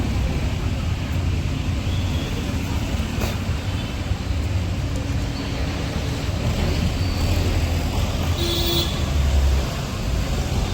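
Steady roadway rumble from inside a moving car in city traffic, a dense continuous drone with a brief higher tone near the end, loud and close with no talking.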